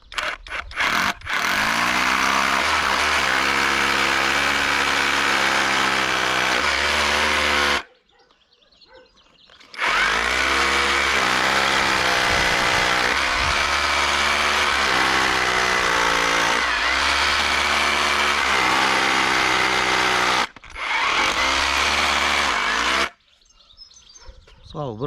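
A Parkside PKHAP 20-Li B2 cordless hammer drill in hammer mode, biting into a concrete wall in two long loud bursts separated by short pauses, with a brief third burst near the end.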